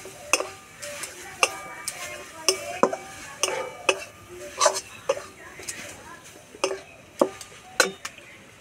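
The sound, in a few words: stirring ash gourd sweet in a pan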